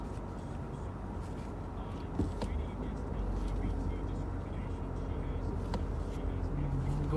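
A 2019 Volkswagen Jetta GLI 35th Anniversary Edition shifted into drive and pulling away: a steady engine hum and road rumble heard from inside the cabin, rising slightly after a small bump.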